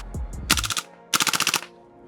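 A PP-2K gas blowback airsoft SMG running on green gas fires two loud, close bursts of rapid sharp cracks, a short burst followed by a longer one after a brief pause.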